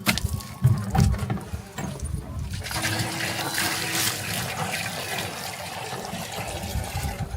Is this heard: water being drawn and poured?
yes